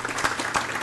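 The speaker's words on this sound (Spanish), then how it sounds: "El aplauso para ella." A short burst of applause at an inaugural ceremony of an internet governance forum in Peru, a dense patter of clapping at moderate level.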